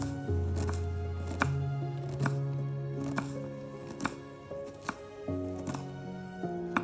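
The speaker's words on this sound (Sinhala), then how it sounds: "ලුණු ටිකත් මේ විදිහට චූටි හැඩයට කපා ගන්නවා" A knife chops onions into small pieces on a cutting board, giving a series of crisp, close taps at an uneven pace, some spaced out and some in quick bursts, over quiet background hum.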